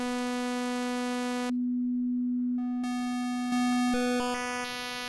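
Held note on a Serum 2 software synthesizer as the wavetable position is swept, the timbre jumping between bright buzzy tones and a near-pure tone in several abrupt steps, steady and alone.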